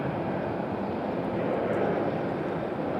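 An airplane departing from RDU airport in Raleigh-Durham roars as a steady, broad rumble from a distance, with no voices.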